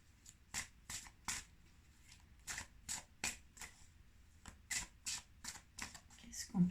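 Oracle cards shuffled by hand in a run of crisp, snapping riffles and slaps, each burst short and distinct, close and fairly quiet, with a soft voice speaking in between.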